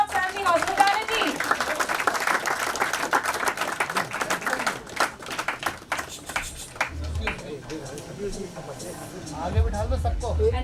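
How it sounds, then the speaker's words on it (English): A round of applause from guests at a felicitation event for cricketer Farokh Engineer, honouring Della Resorts' hospitality, steady clapping that thins out as voices and chatter take over near the end. "A big round of applause for Della Resorts and the hospitality."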